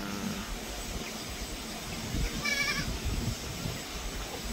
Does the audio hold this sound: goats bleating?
yes